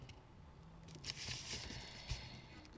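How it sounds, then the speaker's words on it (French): Heavy rain pours down outside with a dense, steady hiss and patter, faint and distant, swelling slightly in places with a few soft knocks. "Ah, il pleut à verse."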